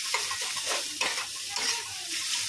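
Steady sizzling of snake gourd frying in a pan, with soft stirring scrapes throughout.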